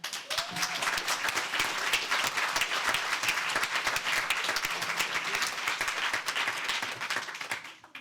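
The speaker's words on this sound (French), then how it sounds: "je vous propose qu'on les applaudisse" An audience applauds steadily for several seconds, dense clapping filling the room before it tapers off at the end.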